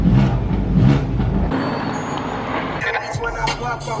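Loud Mercedes SLS roadster supercar engine rumbling and revving close by, with a surge of engine roar early on that settles into a steady drone joined by other passing cars.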